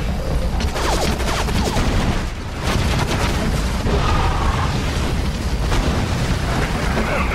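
Grenade explosions and gunfire in the video game Area 51: a dense, continuous barrage of shots and booms that stays loud throughout, with brief crackling bursts layered over a heavy rumbling bed.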